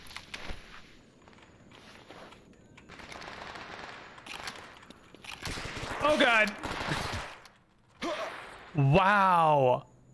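Shotgun blasts in STALKER come as a few sharp, loud reports in the second half, among scuffling footsteps and shrill, wavering creature cries.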